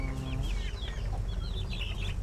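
Chickens cluck softly and continuously in a home coop in the afternoon, several birds calling over a low background hum, with no talking.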